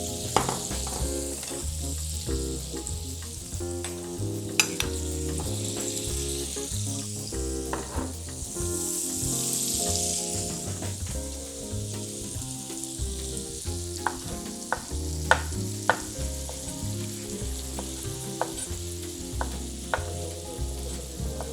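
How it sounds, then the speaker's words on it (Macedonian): Porcini mushrooms fry in a pan of butter with a few drops of olive oil, giving a continuous crackling sizzle with scattered sharp pops. Soft music plays steadily underneath. "Ќе ставам неколку капки маслиново масло, за да не ми загори путерот. Ќе го пропржам вргањот"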